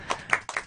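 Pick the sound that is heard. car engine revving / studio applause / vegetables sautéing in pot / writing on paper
studio applause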